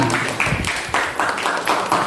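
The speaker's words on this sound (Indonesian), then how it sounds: "tepuk tangan dulu Leli ya" A small group in a school setting claps for Leli, a short patter of applause rising and falling in rhythmic bursts at close range.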